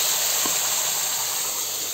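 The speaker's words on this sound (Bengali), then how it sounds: "তেলের মধ্যেও আমি কয়টা কালা জিরা সম্বাস দিব। দেওয়ার সঙ্গে সঙ্গে বাটিয়ে রাখা মশলাটাই অ্যাড করলাম।" Ground spice paste and black cumin seeds sizzle in hot oil in a fish pan, a strong continuous hiss that stays close and even throughout, with no talking.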